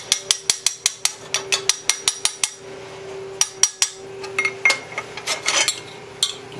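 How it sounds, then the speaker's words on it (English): A hammer taps metal while knocking a piece off a Ford F100 fuel tank bracket, giving a rapid run of sharp ringing strikes, then a pause and a looser, irregular series of clinks and knocks, close and clear. "So I got the magic hammer and just tap it off."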